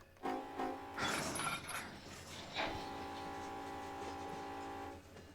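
A GE GEVO diesel locomotive engine in Run8 Train Simulator drones steadily at a distance with a rising, harmonic hum, punctuated by a few brief mechanical clanks early on.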